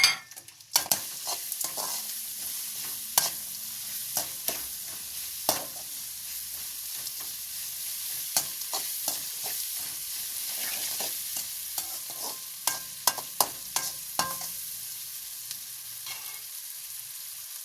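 Chana dal and urad dal fry in hot oil for lemon rice, a steady sizzle running throughout with frequent sharp scrapes and clinks of a spoon stirring in the pan, close and moderately loud with no talking.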